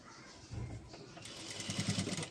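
Sewing machine stitching a blouse, a close mechanical whirr that starts briefly, pauses, then runs in a faster, louder burst with rapid needle chatter.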